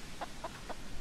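Chickens in the video game Hollow Cocoon give soft, evenly spaced clucks, four short calls about a quarter second apart over a low background hum.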